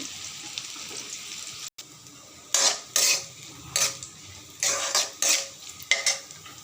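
Chopped coconut frying in a pan, heard as a steady sizzle punctuated by several sharp scraping and clinking stirs against the metal, close by with no voices.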